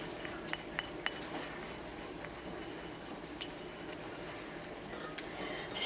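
A utensil clinks and ticks against the side of a pot as a soap mixture is stirred, producing sparse, light taps over a quiet room background.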